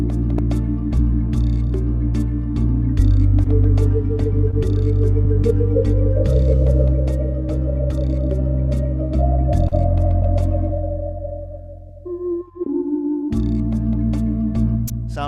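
Organ plays a melody alone, with rich sustained chords and a steady low bass line, ending in a brief pause before the full sound resumes.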